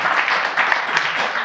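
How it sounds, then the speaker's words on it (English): A smattering of audience applause at an Auckland marketing user-group talk, steady and moderately loud for a short burst with no talk over it. "Just applause."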